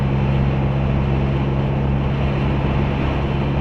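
Steady exhaust drone from a 2023 Ford Bronco Heritage with the 2.3L EcoBoost and a FlowMaster FlowFX muffler, a loud, even low rumble with wind-like hiss and no voices.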